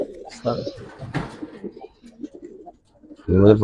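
Pigeons of fancy breeds coo softly at a pigeon sale, with short bursts of cooing heard under someone talking nearby.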